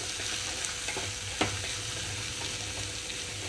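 Grated dry coconut is stirred in a pan over a low flame, giving a soft, steady sizzle with faint scraping strokes of the spoon and one brief clink, close and alone without voices.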